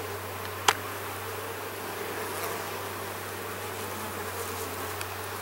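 Honey bees buzz inside an opened backyard beehive, a steady, fairly quiet drone of many insects close by, with a brief sharp knock early on and faint rustling.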